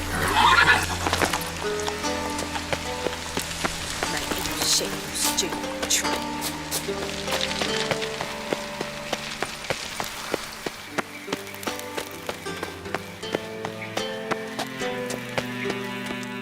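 Roach, a horse in a dark-fantasy video game, gallops in a steady rhythm of hoofbeats with a whinny near the start, over rain and a musical score, while someone speaks briefly.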